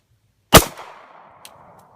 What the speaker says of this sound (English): I'm going to shoot that one again.